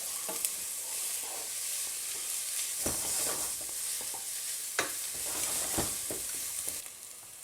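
Venison frying in a hot pan while being stirred to brown it, with a steady loud sizzle and hiss throughout and scraping sweeps and knocks of the utensil at irregular intervals.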